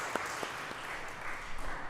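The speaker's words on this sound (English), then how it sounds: "Round of applause." Scattered applause and clapping from a church gathering after a dice roll, with a few distinct hand claps standing out over a steady wash.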